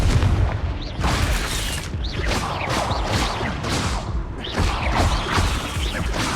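Repeated fiery blasts from the Confringo spell in Hogwarts Legacy, heavy booming bursts and crackling explosions that roll into one another in a loud, dense, continuous barrage.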